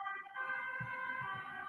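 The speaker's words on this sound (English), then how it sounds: "There was an ambulance." An ambulance siren wailing in a steady rising-and-falling tone as it passes at moderate distance, with faint traffic rumble beneath.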